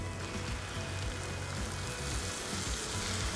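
Chopped tomatoes frying in a pan while cooking Chicken Patiala, a steady, dense sizzle and crackle heard close up and alone.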